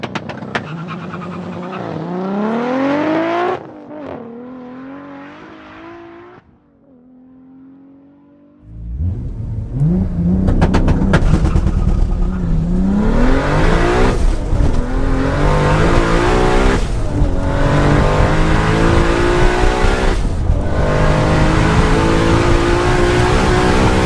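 A roughly 900 bhp Toyota Supra and an 800 bhp Nissan R34 GTR race a quarter-mile drag strip, engines revving hard through rising gear pulls, a brief quieter lull, then a loud sustained roar with repeated upshifts.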